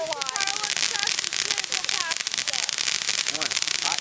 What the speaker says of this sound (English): Water fountain. A firework.